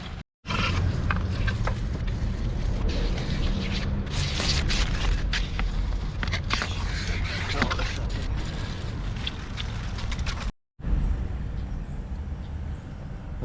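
Cold water sprayed steadily over a Sur-Ron electric bike during a wash, a loud continuous hiss lasting about ten seconds, briefly cutting off and then resuming.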